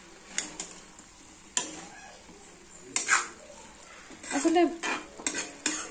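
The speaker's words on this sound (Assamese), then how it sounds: "এতিয়া লৰাই দিম" A spoon stirs food in a pan on the stove, making intermittent scraping and clinking strokes with a faint sizzle underneath, while a voice speaks briefly.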